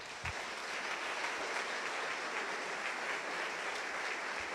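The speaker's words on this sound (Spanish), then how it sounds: "para este joven que levantó la mano, démosle un fuerte aplauso." Church congregation applauding in a main hall, a steady wash of many hands clapping at a distance, fairly faint and uninterrupted throughout.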